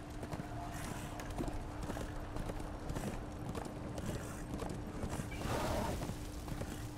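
Horse hooves in Darksiders 2, a rapid steady clip-clop of galloping across the whole clip, mixed with game ambience and a brief snort or whinny near the end.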